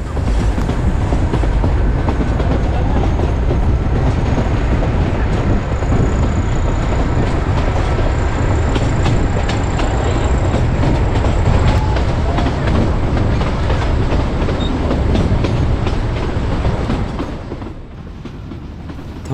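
A Kangra Valley narrow-gauge train rumbles loudly and continuously across the high arched Bathu railway bridge, wheels clattering steadily before the roar drops away near the end.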